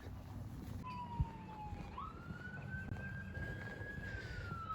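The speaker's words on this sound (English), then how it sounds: "they got a lot of ambulances and police cars going by" Outdoors in Oak Ridge, Tennessee, a siren from a passing emergency vehicle wails at a moderate distance, one long tone dropping and then rising and holding, over steady wind and low traffic rumble.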